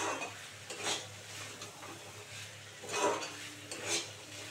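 A spatula scrapes and clatters against a pan as green pea ghugni is stirred and sautéed. A few distinct scraping bursts sound over a faint, quiet background.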